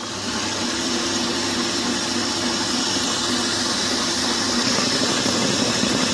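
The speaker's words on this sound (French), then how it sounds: "Et là donc, au batteur en pleine puissance." Electric mixer beating génoise sponge batter at full power while it cools, a loud, continuous motor whir with a steady whine and no breaks.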